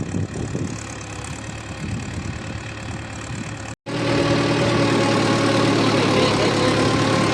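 A freshly serviced tractor engine runs steadily, its low droning rumble close and loud, cutting out briefly midway before resuming at a fuller, steady idle with no talking.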